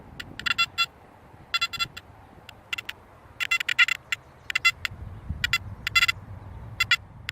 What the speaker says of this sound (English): That's the constant noise you have to listen to in 4-tone mode.